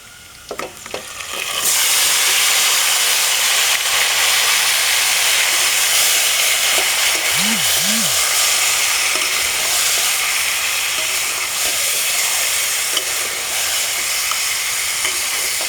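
Marinated country chicken hits hot oil with a sudden loud burst of frying, then settles into a strong continuous sizzle and hiss, with brief clatter of stirring and a short tonal squeak partway through.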